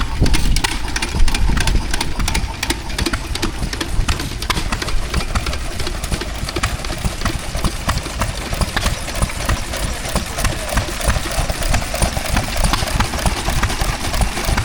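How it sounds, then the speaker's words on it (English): An old stationary engine drives a water pump at an outdoor steam and craft fair, chugging close and loud in a fast, even, clattering rhythm that holds steady throughout. "This one's called a Wit, I think. It's running a water pump again."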